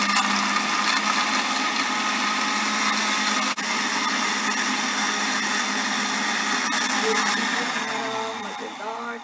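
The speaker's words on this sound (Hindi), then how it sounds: "फिर चंद सेकंड्स के लिए हम ब्लेंडर को चला देंगे" An electric kitchen blender whirs steadily while blending a strawberry milkshake with milk, a loud continuous motor roar that holds for several seconds before winding down at the end.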